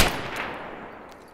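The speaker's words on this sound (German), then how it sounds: "Er schießt auf uns." A single sharp gunshot cracks out in the video game Escape From Tarkov on the Shoreline map, loud and up close, then trails off in a fading echo.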